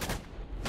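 Gunfire from the video game Dust 514, a short dense burst of rapid shots rolling together, fairly faint and heard without talk.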